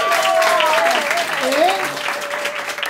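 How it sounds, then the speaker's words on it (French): Audience applause at an improv comedy show at a Paris improv festival, steady clapping from a packed room with a host's voice speaking over it briefly. "on applaudit, allez."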